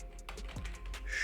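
A sudo command being typed on a computer keyboard, a quick close run of several distinct key clicks in an uneven rhythm, heard alone.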